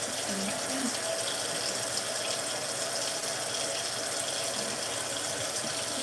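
Liquid cleaner poured into a container during household cleaning, a steady continuous splashing stream filling the whole stretch at close range with no voices.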